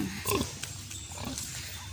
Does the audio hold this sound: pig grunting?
yes